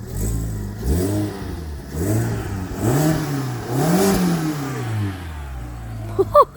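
Revving from a VW car engine during a sound check: four repeated throttle blips rise and fall in pitch, close and fairly loud, followed by a short clatter at the end.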